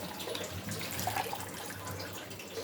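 Drumstick leaves being rinsed and washed in water, a steady close splashing and trickling with no pauses and nobody talking.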